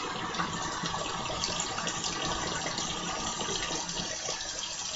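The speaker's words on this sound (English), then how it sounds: "Let me get my water hot." Water runs steadily from a bathroom tap being heated for a wet shave, a constant close splashing gush that continues without pause and without talk.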